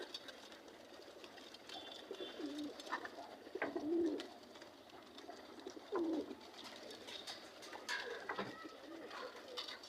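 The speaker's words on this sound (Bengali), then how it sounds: "ভালো মোটামুটি কবুতর ছাড়া হয়েছে আজকে।" Newly released pigeons coo outdoors, giving several low, throaty coos at irregular intervals over a soft background hum.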